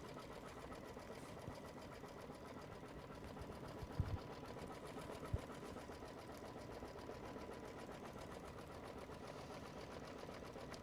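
Sewing machine running steadily while stitching a folded fabric border quilt block, a faint continuous mechanical whir with a couple of brief clicks, no talking.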